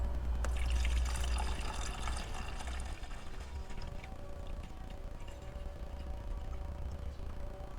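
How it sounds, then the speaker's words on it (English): Coolant pours from a jug into a Mk5 Golf R32's cooling system, making a continuous, fairly quiet liquid gurgle and trickle outdoors, with low wind rumble at the start. "with the jug in hand, let's see if I can pour this in without spilling it all"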